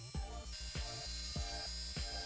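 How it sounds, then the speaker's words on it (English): A rotary tool spins a rubbing brush to polish detail on the original base of a restored Matchbox No. 46C Mercedes 300 SE diecast model, giving a steady mechanical whir with repeated rhythmic ratchety pulses, heard alone at close range. "Next I'll use my rotary tool just to polish that out using a rubbing brush which is attached"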